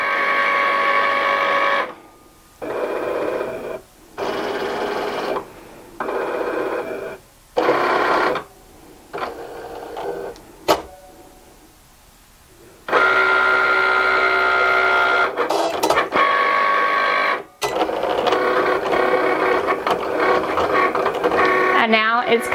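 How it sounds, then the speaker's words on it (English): A Cricut cutting machine whirs and buzzes loudly in steady motor bursts with short pauses as it cuts around each sticker on a sheet, close up, with a voice talking over part of it. "It's cutting around the outside of every one of my stickers."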